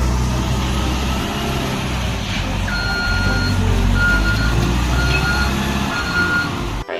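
A toy RC bulldozer reverses with faint electronic backing beeps over a constant loud motor and rumbling hum, steady throughout the whole stretch.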